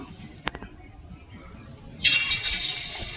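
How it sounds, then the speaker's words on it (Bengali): Onion fritters (peyaji) dropped into hot oil in a kadai: after a quiet stretch with a couple of small knocks, a loud, bright sizzle bursts up and keeps crackling close by. "তেল গরম হয়ে গেছে, এবার আমি পেঁয়াজি ভেজে নেব।"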